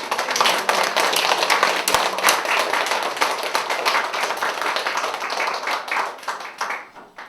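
A church congregation claps in praise to God during a Korean sermon, a dense, rhythmic run of many hands clapping together at a loud, steady level before tapering off at the end.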